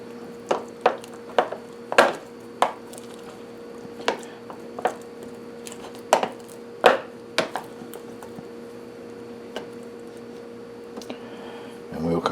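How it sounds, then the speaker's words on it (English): A rehydrated sourdough culture is stirred in its container: a series of sharp taps and knocks slows and then fades into quiet, over a low steady hum. "What I will do is give it a good stir, redistribute the yeast that's working in there."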